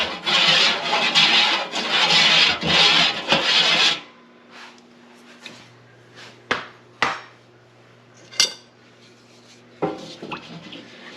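A wooden spoon scrapes and stirs in a cooking pot on the stove while a turkey dinner is prepared, with loud rough scraping for about four seconds and then a few sharp knocks and scrapes.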